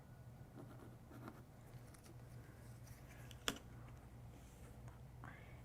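A pencil marks a midpoint on vinyl in a quiet crafting space, giving faint scratchy strokes and light taps against a low steady hum, with one sharp click partway through.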